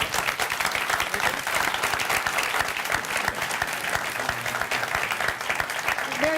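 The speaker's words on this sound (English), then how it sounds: "Time to applaud if you want." Sustained studio audience applause at a San Diego mayoral debate at San Diego State University, a full, even roar of clapping lasting over six seconds with no break.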